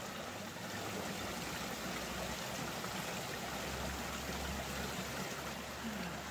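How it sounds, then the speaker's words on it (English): Bear Branch Creek on the Appalachian Trail, a steady, fairly faint rush and trickle of flowing creek water, continuous and close by with no voices. "this is Bear Branch Creek"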